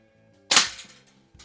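A single sharp report from a Diana Chaser .22 carbine conversion airgun, a crisp snap with a short decaying tail and a faint click after.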